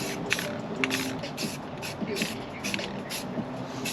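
Spray paint applied to a motorcycle wheel in short, repeated hissing bursts of about half a second each, moderately loud and close, with a faint voice underneath.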